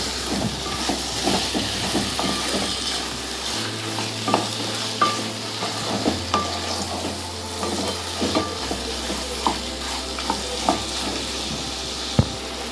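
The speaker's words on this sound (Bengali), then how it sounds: "এরপর আমরা এর মধ্যে আমাদের চিকেনের পিসগুলি দিয়ে দেবো, দিয়ে আবার ভালো করে কষিয়ে রান্না করে নেব।" Chicken pieces frying with spices in a pan, a steady loud sizzle and hiss with scraping stirring strokes throughout, no voices.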